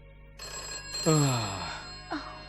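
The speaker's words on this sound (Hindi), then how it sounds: "कोई फोन उठाओ भाई, उठाओ भी।" A telephone from a 1970 film scene rings out in bursts, a loud electronic trill with falling tones that repeats twice, with no voices over it.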